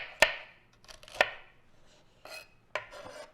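A bunch of celery chopped with a kitchen knife on a board, four sharp separate knocks spaced about a second apart, close and clear with light rustle between.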